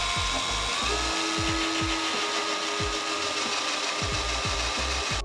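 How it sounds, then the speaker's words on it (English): A drill with a spot weld bit grinds steadily through spot welds on a Mustang engine bay, a close, continuous whine with repeated rhythmic thumps as the bit bites. "for this, we're gonna use a spot weld bit"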